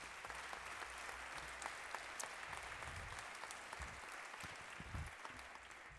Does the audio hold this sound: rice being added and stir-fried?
no